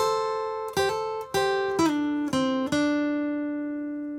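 Acoustic guitar plays a slow blues lick from an unplugged solo: about five plucked and hammered notes on the upper strings, ringing clearly and close up, with no voice over it.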